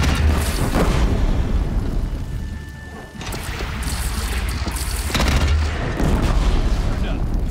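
A heavy cannon fires repeated booming blasts in Horizon Zero Dawn, like a multi-grenade launcher, with dense explosive bursts and rumbling impacts over loud game action.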